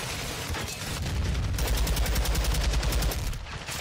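Rapid automatic gunfire from bosses shooting in a video game firefight at Building 21, a loud, dense rattle of shots that builds and holds for about two seconds before easing off.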